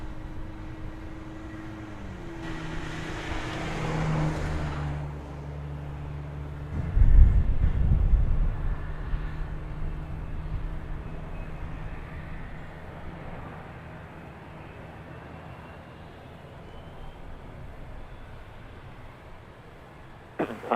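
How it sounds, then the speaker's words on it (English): A Boeing Dreamliner airliner arriving from Phoenix and landing at Dallas Fort Worth airport, a broad distant jet roar with a rising whine, swelling to a louder rumble midway and then fading into a steady background drone. "let's swing over here and catch this Dreamliner coming in from Phoenix on runway"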